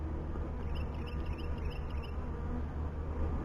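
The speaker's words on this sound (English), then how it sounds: "There's a lot of bees in this nuc, so the frames we want to put close together." A dense, steady buzzing hum of many honey bees in a nucleus hive box, continuous and moderately close, with no voices.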